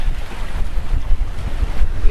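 Wind and sea wash around a sailboat running with waves on the starboard aft quarter while the autopilot struggles: a steady, close, rushing roar with gusty surges and low rumble, no voices.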